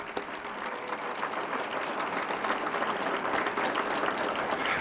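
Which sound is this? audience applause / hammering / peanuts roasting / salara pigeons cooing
audience applause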